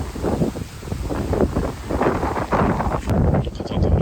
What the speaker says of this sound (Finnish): Täällä on kova tuuli.